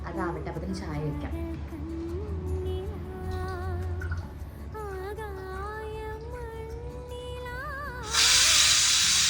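A pressure cooker holding lentils lets out a sudden loud, steady hiss of steam near the end, following a stretch of talk in a home kitchen.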